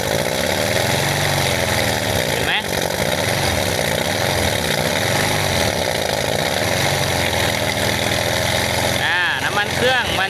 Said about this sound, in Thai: ทีนี้เราก็จะทำการเร่งเครื่องนะ ทำการเร่งเครื่องให้ดูนะ